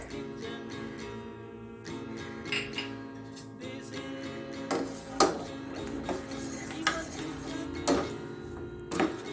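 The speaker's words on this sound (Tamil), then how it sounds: "இப்போ இது கூட நல்லா மிக்ஸ் பண்ணிக்கோங்க" A tomato and egg mixture stirred in a pan, with repeated metallic scrapes and clinks of a utensil against the pan at an uneven pace over a faint sizzle, close up and without voices.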